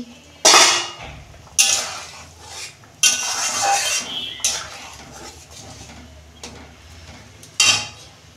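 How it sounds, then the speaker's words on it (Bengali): A metal pot lid lifted off during the cooking of Bengali rui fish curry with mixed vegetables, giving several sharp clanks and scrapes, close up, with quieter rattles and kitchen clatter in between. "এই যে ঢাকনা খুলছি"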